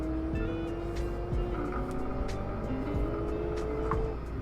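A video game car engine with a quiet exhaust, likely fitted with a full system and twin reverse-flow mufflers, hums steadily and subdued with gentle rises in revs, continuous and fairly close, with no talking.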